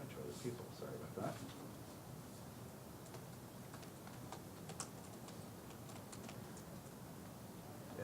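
A password is typed on a computer keyboard: a quiet, steady run of light key clicks with irregular rhythm, close by and soft.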